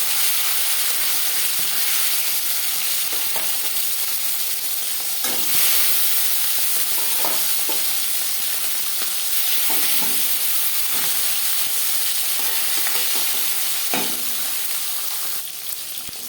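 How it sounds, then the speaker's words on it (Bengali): Marinated bata fish sizzling in hot refined oil in a pan, a loud continuous crackling fry with occasional sharper spits and stirring clatters, no voices. "4 চামচ রিফাইন্ড অয়েল গরম করে নিয়েছি। এবার দিয়ে দেব ম্যারিনেট করে রাখা মাছ।"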